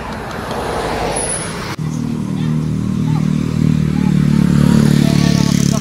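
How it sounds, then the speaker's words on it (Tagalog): Cars and motorcycles pull away along a road during a street procession, a steady engine rumble that swells and grows louder after a brief clatter, with a general din of voices and traffic behind it. "Takbo, nagtakbuhan ng mga sasakyan."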